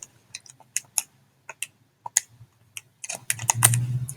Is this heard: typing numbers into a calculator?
yes